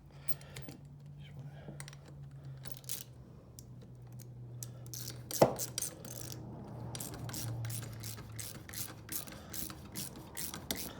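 A ratchet wrench tightens nuts on a catalytic exhaust hanger on a Buick Grand National, making short bursts of quick clicking close up in a quiet garage, with one sharp metallic clank near the middle and a faint low hum beneath.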